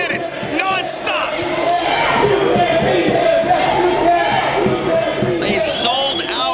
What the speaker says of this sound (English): A sold-out, standing-room-only crowd watches on. This crowd is rabid right now, man.